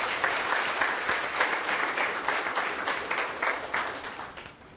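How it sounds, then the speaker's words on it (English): Audience applause for a girls cross country team at a high school fall sports banquet, steady dense clapping from a full room holding at an even level throughout. "Let's have a round of applause for the girls cross country team"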